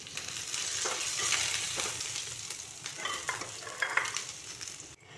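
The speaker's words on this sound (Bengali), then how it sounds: "লং, গোলমরিচ, তারপর এলাচ, দারুচিনি সবগুলো দিয়ে দিলাম। এগুলোকে লো ফ্লেমে ভাজতে হবে।" Whole cloves, peppercorns, cardamom and cinnamon with chopped ginger frying in a pan over a low flame, a steady close sizzle broken by scraping stirs, with no talk.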